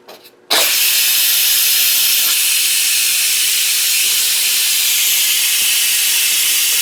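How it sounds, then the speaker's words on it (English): An Instant Pot's manual pressure release sends out a sudden loud, continuous jet of hissing steam that runs steadily after a brief quiet start, with no voices. "I'm going to release the pressure manually here"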